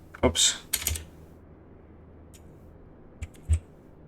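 An airport code is typed on a computer keyboard while setting a destination in a flight simulator: short bursts of crisp, close key clicks separated by quiet pauses.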